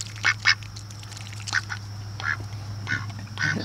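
Ducks quack in short, loud bursts, a few close calls spaced unevenly over a steady low hum, with no other sounds between them.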